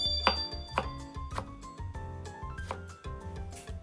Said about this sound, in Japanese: そしたら続いてピクルスもみじん切りしておきます。